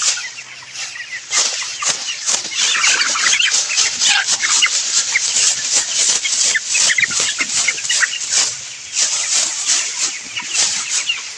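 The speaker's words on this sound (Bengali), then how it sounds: "এই দেখুন মুরগিগুলা" Chickens in a dim, fenced poultry coop cluck and squawk in a busy, overlapping chorus, close and loud, with calls rising and falling continuously while rain falls outside.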